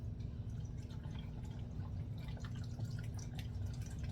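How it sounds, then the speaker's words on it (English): Water trickles and drips into a blender jar, a soft, steady, fairly faint liquid patter running throughout with small splashes. "add the water."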